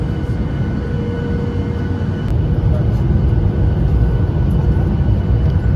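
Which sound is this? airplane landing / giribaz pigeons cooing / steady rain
airplane landing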